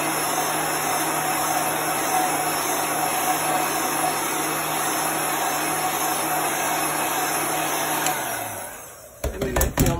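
A heat gun set to plain air blows steadily over a chalk-painted board, a loud, continuous whirring roar that winds down near the end, followed by a few handling knocks.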